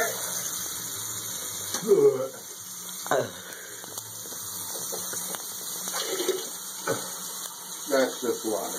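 Water runs steadily from a tap into a sink under a constant hiss, with occasional splashes and bumps while people talk over it.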